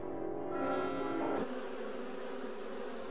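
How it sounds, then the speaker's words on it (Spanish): A bee buzzes close by in a steady, loud drone that shifts pitch partway through and then holds on evenly. "El zumbido de una abeja tiene unos 30 hercios"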